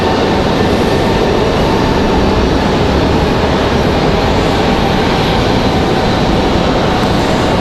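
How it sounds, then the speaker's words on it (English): Heavy jet aircraft departing Raleigh-Durham International, a Boeing 787-9 Dreamliner and the American 174 Heavy bound for London, a loud steady broadband engine roar filling the whole span without letting up. "787-9 Dreamliner headed out, as well as the American 174 Heavy back to London."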